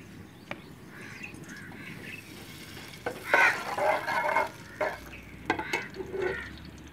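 Ghee heating in a cooking pot on a village stove gives a soft sizzle and bubbling, with a few stirring scrapes and clinks rising louder midway, set against faint outdoor noise with birds calling.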